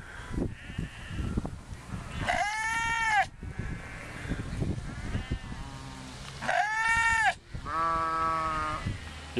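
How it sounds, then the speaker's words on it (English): Lost lambs bleating in several loud, wavering calls, two long close cries separated by quieter pauses and a shorter bleat near the end, over outdoor background noise. "Some lost lambs."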